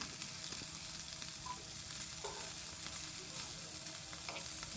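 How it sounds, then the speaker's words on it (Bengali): Hilsa fish frying lightly in oil in a pan, a faint, continuous sizzle and crackle that stays even throughout, without talk. "খুবই হালকা করে ভেজে নিয়েছি মাছগুলো।"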